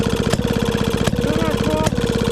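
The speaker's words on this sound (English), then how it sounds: "then when it idles, it fires whenever it feels like it." Small engine on a machine tool restoration idling, running a little rich and firing irregularly, with a loud, close chugging pulse, uneven beats and a few sharp knocks, with some voice over it.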